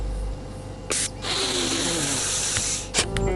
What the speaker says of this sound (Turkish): Burun spreyi iyi olur musun acaba?